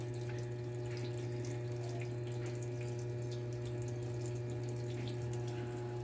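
Water runs steadily into a tub filling up for washing everyday clothes such as trousers, shirts, uniforms and jeans with soap, a constant rushing hiss heard up close with a low hum beneath it.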